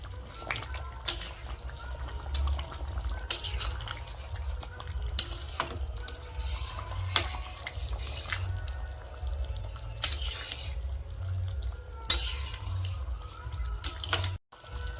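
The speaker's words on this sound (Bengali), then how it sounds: "এখন আমি গ্যাসের ফ্লেম মিডিয়াম থেকে হাই করে দিয়ে 20 মিনিটের মতো খুব ভালো করে ফুটিয়ে নেব। তো বন্ধুরা মাঝে একবার করে আমি নেড়ে রাখবো।" Desi chicken curry bubbling in a pot on a high gas flame, a low continuous simmering rumble broken by frequent sharp clicks and scrapes of a spoon stirring against the pot.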